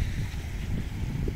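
Cold wind blows steadily across a seashore in Italy, a continuous low rumbling buffet against the microphone with no talk over it.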